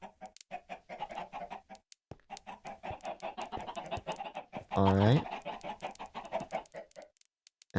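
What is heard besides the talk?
chickens clucking in Minecraft video game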